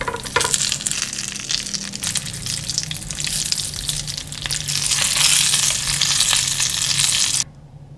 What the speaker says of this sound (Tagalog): magtunaw tayo ng 2 kutsarang margarine, bawang, at paprika. Ilagay natin yung mais dito